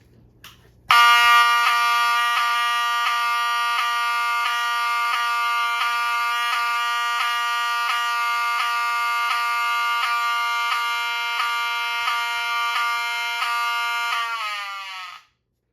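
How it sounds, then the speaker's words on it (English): An HSD24F (7001) fire alarm horn blares loud and steady, continuously for about fourteen seconds at constant pitch, then cuts off abruptly. "the HSD24F, otherwise known as the 7001, which is probably the rarest of all the alarms shown here"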